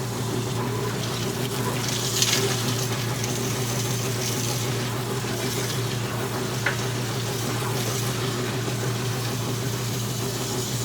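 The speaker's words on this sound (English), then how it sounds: "Fill it back up with clean water." A Speed Queen wringer washer fills with clean water in a steady, continuous rush over a low motor hum, with a couple of faint clicks and no talking.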